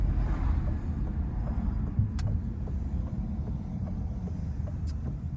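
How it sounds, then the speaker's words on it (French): A Citroën C3 Aircross 1.2 82 hp engine drones with a low steady rumble, heard from inside the vehicle along with road and wind noise; no clear acceleration rise. "je vais me taire, j'ai tendance à beaucoup parler, mais on va écouter le moteur ensemble"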